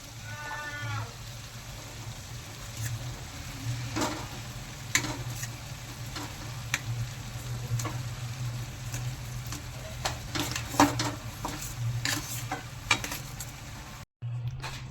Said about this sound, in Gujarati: તો હવે આપણે એમાં ભાતને મિક્સ કરીશું